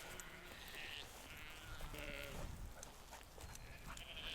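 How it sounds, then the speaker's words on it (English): Sheep on a farm bleat faintly, with one clearer bleat near the middle rising out of steady outdoor background noise. "Silly sheep."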